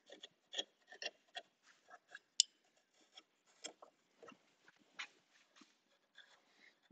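Hand rasp scraping across a wooden carving to smooth away earlier tool marks, a series of short, irregular dry rubbing strokes, close and fairly quiet, with brief pauses between them.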